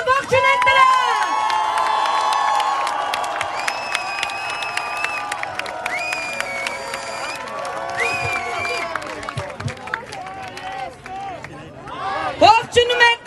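A large outdoor crowd of Armenians at a protest cheers, whoops and claps for an arriving motorcade from California, with shouting voices and a loudspeaker voice over the roar, loud and close.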